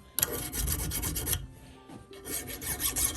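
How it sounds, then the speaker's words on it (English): A hand file rasps back and forth across a rusty froe blade in a quick series of close, scraping strokes, a brief pause, then more filing, with no talking. "You don't want to file it too much"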